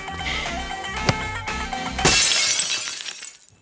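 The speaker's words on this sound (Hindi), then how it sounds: "महीने में 12वीं बार कांच टूटा है" Glass shatters loudly with a bright crashing burst of tinkling shards that rings out and fades over a second or so, following a sharp knock amid background sound, with no talking.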